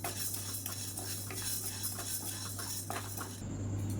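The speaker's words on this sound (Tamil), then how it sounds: "இதையும் சேர்த்து நல்லா வாசனை வர அளவுக்கு வறுத்துக்கலாம்." White sorghum grains dry-roasting in a pan, stirred with a metal utensil in quick repeated scraping strokes over a low hum, close and fairly clear, with a soft sizzle and a brief clatter near the end.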